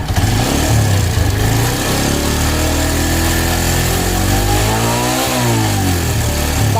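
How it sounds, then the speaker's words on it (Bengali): A motorcycle engine with loose tappet clearance and an over-tight timing chain revs up and down steadily, loud and close, with a ticking tappet clatter riding over the running engine throughout. "এখানে শুধু ট্যাপেট ক্লিয়ার রাখা আছে, যার জন্য ট্যাপেটের শব্দ হচ্ছে"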